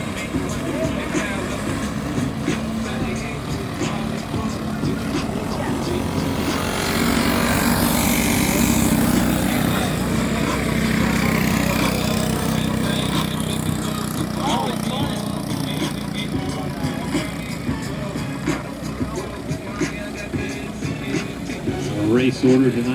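Junior go-karts race in a heat at Lawrenceburg Motorcycle Speedway dirt track, a steady buzzing pack of small engines that swells in the middle, heard from the stands with crowd and announcer noise mixed in.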